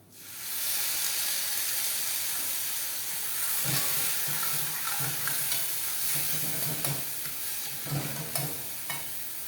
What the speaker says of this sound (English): Then we'll just deglaze the pan with the white wine